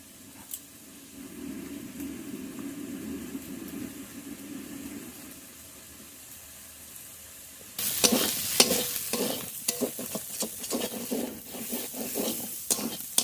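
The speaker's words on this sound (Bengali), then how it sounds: "চিংড়ি মাছ ভাজা হয়ে গেছে, নামিয়ে নেব।" Shrimp frying in a pan while being stirred: a steady mid-level sizzle, then a sudden louder stretch of scraping stirs and crackling spatter, with no talk.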